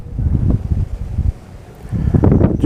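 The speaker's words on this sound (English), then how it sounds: "The wind's blowing a little bit harder here." Wind gusts across the water beside a boat on a fishing outing, a loud, low rumbling buffet on the microphone that eases briefly in the middle before rising again.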